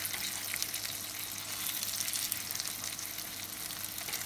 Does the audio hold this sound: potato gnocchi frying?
yes